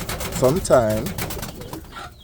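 Indian fantail pigeons cooing close by, two soft rolling coos in quick succession followed by quieter low murmuring.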